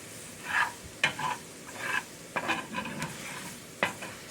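Dark roux with onions cooks on low heat in a pan and is stirred steadily. A soft, close sizzle runs under repeated scraping strokes of the spoon, with occasional light clinks against the pan.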